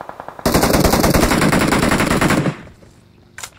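Automatic gunfire in the BGMI battle royale game: a loud, rapid sustained burst of about two seconds, followed by a quieter tail and a brief sharp shot near the end.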